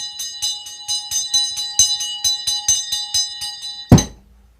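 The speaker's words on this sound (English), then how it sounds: "With this ringing of this bell, we lift the veil twixt heaven and hell" A small handbell rung in a ritual, struck rapidly about fifteen times in a quick, even rhythm with bright ringing tones, ending in a louder clunk as it is set down; close and clear with no talk.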